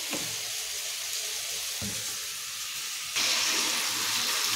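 Chicken frying in oil during kasha-style sautéing in a home kitchen, a steady dense sizzle close by that swells louder near the end, with no talking.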